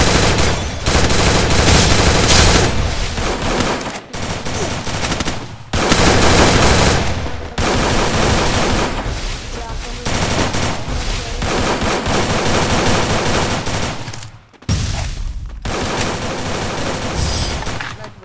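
Sustained automatic fire from an MP40 submachine gun in the Free Fire battle game, loud and dense, in long bursts broken by brief pauses, with no talk over it.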